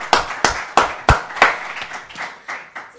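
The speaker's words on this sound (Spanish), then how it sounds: "pido un aplauso para él" A small audience claps at a talk, several distinct hand claps in a loose rhythm, close by, fading after a few seconds.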